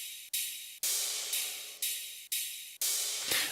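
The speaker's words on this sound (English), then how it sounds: "So the rides just sound like this. They're kind of like cymbals." Ride cymbals play in FL Studio as a bright, sustained cymbal wash in a regular rhythm, with a hit roughly every half second and each one decaying before it is cut off by the next. No voices.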